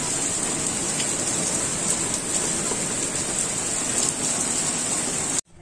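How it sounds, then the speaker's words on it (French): Steady, heavy rainfall in Pisa, Italy hisses continuously, dense and even, then cuts off abruptly at the end. "je crois qu'il pleut pour de vrai"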